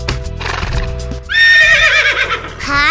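Cartoon horse neighing loudly with a long, wavering whinny, preceded by clip-clop hoofbeats and ending with a rising call.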